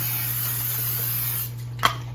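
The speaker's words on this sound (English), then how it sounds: "I'm gonna grab some cooking spray. We're gonna go ahead and spray our pan." A short, breathy burst of canola oil cooking spray onto a pan hisses once near the end, following a steady background hum.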